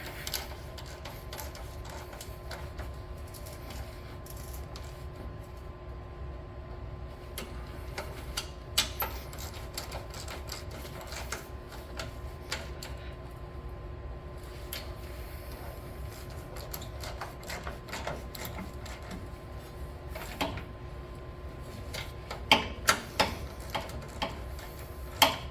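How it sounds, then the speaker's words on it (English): Bolts on a John Deere E2102 chain tensioner being tightened, faint steady ticking and light ratcheting clicks with occasional sharper metallic taps, close but quiet throughout. "we'll tighten these 4 bolts back up"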